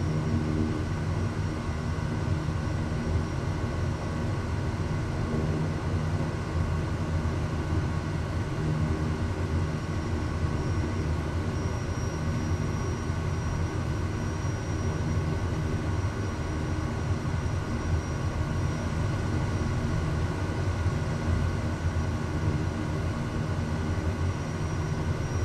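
Continuous airliner engine hum and rolling rumble as a plane taxis after landing in Microsoft Flight Simulator 2020, steady and even throughout with no voices.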